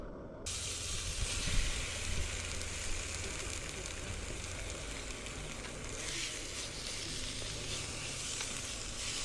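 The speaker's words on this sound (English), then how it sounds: "we're just going to be heating it up in this frying pan" Steady, loud sizzling of bolognese being heated in a frying pan, a continuous hiss with faint crackle throughout, no voices.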